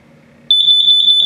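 An RV's combined carbon monoxide and LP gas detector in a 2021 Gulfstream Innsbruck 279BH sounds a loud, steady high-pitched electronic alarm tone, pulsing in rapid even beeps after a quiet moment, close by.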